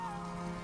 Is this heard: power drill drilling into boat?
no